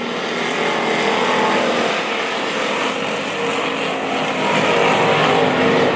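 Pure stock race cars roaring around the dirt track at Springfield Raceway during a heat race, a loud continuous engine drone that swells and fades slightly as the cars pass.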